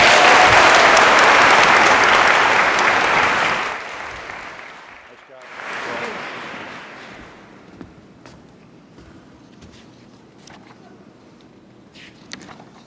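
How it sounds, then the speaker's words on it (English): Loud audience applause at a Walden University NSLS induction ceremony after a speech, a dense roar of clapping for about four seconds that fades out, swells briefly once more, then dies into quiet room noise. "let's thank one more time with a round of applause Mr. Charles Knippen"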